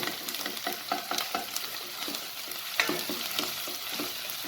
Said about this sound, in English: you want to cook them until they are done